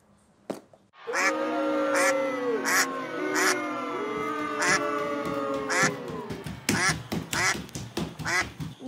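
Ducks quacking in a school theater production, loud repeated nasal calls overlapping in a busy chorus, with sharp percussive knocks and a voice briefly heard among them.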